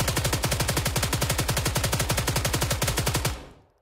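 Sustained automatic gunfire in Arma 3 on the Chernarus map, a rapid, even burst of loud close shots that runs for about three seconds and then cuts off abruptly.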